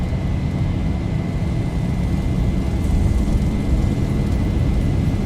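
Airliner engines roar at takeoff power in the X-Plane 11 flight simulator, a steady, dense, loud rumble with a faint high whine, sustained without a break.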